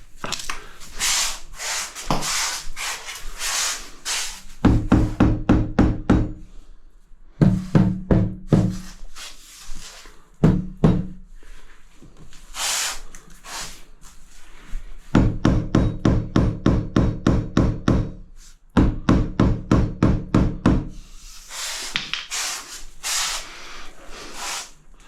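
A rubber mallet strikes wood while cutting basic woodworking joints, giving close, sharp knocks in rapid rhythmic bursts of many blows, separated by short pauses.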